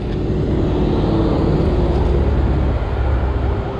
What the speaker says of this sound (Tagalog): walang tigil na yung mga sasakyan